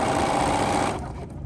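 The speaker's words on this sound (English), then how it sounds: "So now I'm gonna go ahead and stitch again, using my knee to lower that presser foot down and stitch." Sewing machine stitching cotton quilt pieces, its motor running in a steady, close whir that holds loud and even, then drops to a quieter, lighter hum near the end as the stitching slows.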